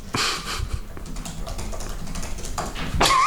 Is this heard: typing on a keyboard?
yes